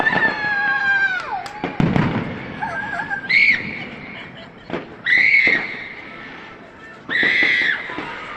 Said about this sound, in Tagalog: Ganda ng fireworks